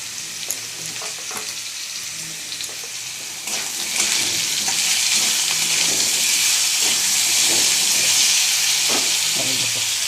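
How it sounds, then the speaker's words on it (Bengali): Figs (dumur) for a curry fry in a pan, giving a loud, continuous sizzle and hiss that grows stronger partway through, with occasional stirring clicks and no talking. "ভেজে নিই খানিকক্ষণ ধরে পাঁচ সাত মিনিট ধরে ভেজে নিয়েছি"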